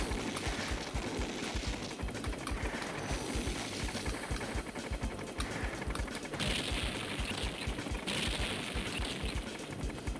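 Rapid bursts of gunfire from a flight and space combat video game, dense and continuous throughout, with layered electronic crackle and no talk.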